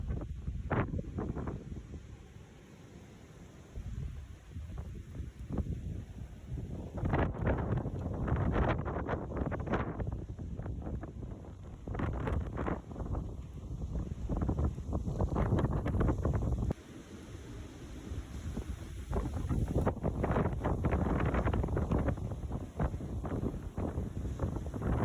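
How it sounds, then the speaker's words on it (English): Strong, gusty wind of 20 to 30 mph with gusts up to 40 mph buffets the microphone outdoors during a Kansas archery deer hunt, a roaring rush that surges and eases continuously for the whole stretch with no talk. "It was 65 to 75 degrees with 20 to 30 mile an hour winds"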